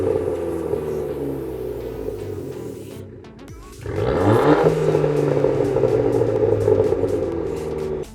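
An Abarth 595 engine with a rear box delete exhaust revs up with a deep, throaty exhaust roar after a quieter idle, rumbling loudly and steadily.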